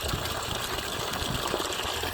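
Water gushing steadily from a 900W BLDC motor pump drawing from about 30 feet through a 63 mm pipe on a farm, a dense continuous broadband rush at constant loudness with no talking.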